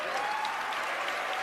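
Audience at a live sports-radio event applauding a speaker, a steady wash of many hands clapping at moderate distance for the whole moment.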